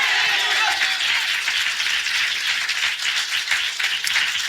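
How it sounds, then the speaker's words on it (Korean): Church congregation clapping together during a Sunday morning worship service, a dense, steady wall of applause lasting throughout, loud and continuous with no break. "우리 하나님께 박수로 영광 돌리겠습니다"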